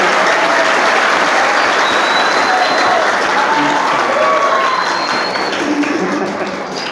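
Loud, sustained applause from a large audience at an education seminar at an Islamic boarding school, dense clapping filling the whole stretch with faint crowd voices and calls mixed in.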